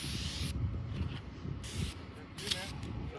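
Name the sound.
Alba Botanica sunscreen being sprayed onto arm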